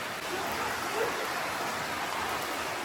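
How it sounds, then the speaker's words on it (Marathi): Heavy rain pours down on an outdoor Vat Purnima puja in Konkan, a steady hiss of drops hitting surfaces that stays even and close for the whole short stretch. "अरे पाऊस मोठा आला आम्हाला छत्र्या द्या"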